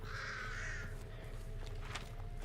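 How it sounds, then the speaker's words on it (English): Crows caw in a video game, with one long harsh call up front that gives way to fainter rustling game ambience. "Will I be able to get around these crows?"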